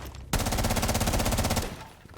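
Automatic gunfire shoots through a wall in the video game Rainbow Six Siege as one loud, rapid burst of about one and a half seconds. Its rounds blur into a continuous rattle before it cuts off.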